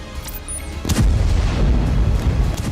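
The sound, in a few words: rocket explosions in Israel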